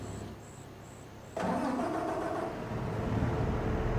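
A big tractor engine cranks and fires in Farming Simulator 25, a brief beeping before a sudden ignition, then a steady, moderately loud diesel idle that builds slightly.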